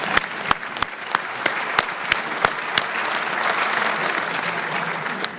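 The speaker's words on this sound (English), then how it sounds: "We can clap there." An audience at a community award ceremony in Government House applauds steadily, with dense clapping throughout and a few sharper, closer claps standing out near the start.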